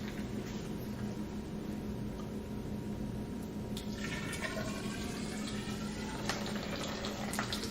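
Water jets spurting from holes in the side of a water-filled column make a steady, moderately close splashing and trickling wash throughout, with brief brighter splashes near the end.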